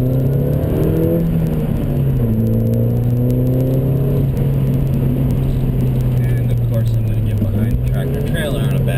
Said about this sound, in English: I find the engine very smooth too, and how it revs.